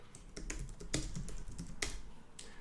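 Keystrokes on a computer keyboard, a quick irregular burst of close, crisp taps with short pauses between them.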